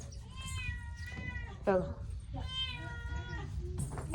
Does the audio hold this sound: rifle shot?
no